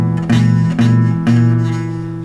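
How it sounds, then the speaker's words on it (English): An open chord on acoustic guitar rings out three times with a buzzy edge from poorly placed fretting fingers, loud and close, each strum sustaining and fading without any talk. "you're going to get a horrible buzzing sound whenever you play your open chords."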